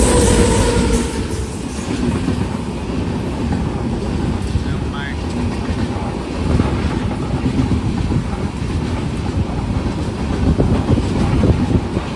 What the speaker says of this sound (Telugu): రెండో ట్రైన్ కూడా క్రాసింగ్ అయితే పడిపోయింది మధురై ఎక్స్ప్రెస్ ట్రైన్ ఇది